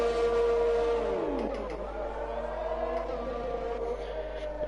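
A Formula 1 car in a racing video game at the United States Grand Prix, its engine note glitching into a steady, loud, harmonic whine that wavers and drops partway through, heard up close with no talking.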